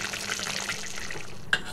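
Water running from a tap into a pot of dal, a steady close splashing pour that stops abruptly near the end.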